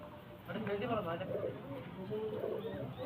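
Pigeons at a pigeon sale coo in a low, continuous murmur, steady and close, while someone talks over them throughout.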